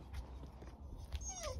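A Dalmatian puppy whimpers softly while meeting another dog in a garden, giving faint, brief high whines over low background noise.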